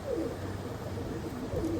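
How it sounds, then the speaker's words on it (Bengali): A pigeon with spotted plumage coos in low, rounded bursts, two or three soft throaty calls repeating close by over a steady background murmur. "খুব সুন্দর নালিমা স্পটের পায়রা।"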